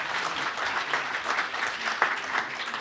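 Audience applause after a panel discussion, a steady dense clapping wash for a few seconds at moderate volume, no talk over it.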